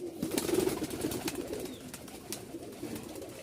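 Rajshahi Lal Sundari giribaz pigeons coo softly and continuously nearby, a low throaty burbling with faint rustles around it.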